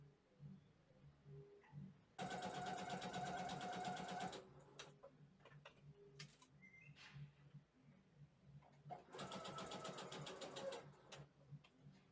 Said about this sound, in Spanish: Remata el inicio y comienza a coser por todo el largo de la tira.